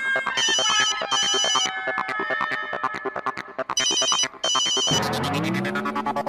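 A phone ringtone plays a repeating electronic melody loudly and close, in rhythmic bursts, then shifts into a different tone near the end.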